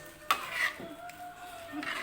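A spoon scrapes and clinks around a metal pot of gulai with coconut milk and egg-stuffed beef intestine simmering softly, a few short stirring strokes close by with no talking.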